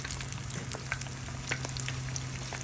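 Bourek pastries fry in a pan of hot oil with a dense, steady close sizzle, broken by a few small crackles and pops as pieces are turned.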